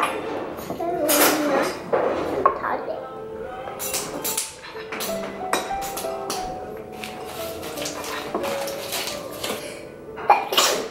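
A sneeze bursts out amid a busy kitchen, with dishes clinking and people talking throughout.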